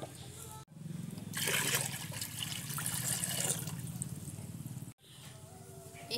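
Water pours into a clay pot with a hollow rushing splash for about three and a half seconds before cutting off. The pour sounds fairly faint and close, and no speech is heard.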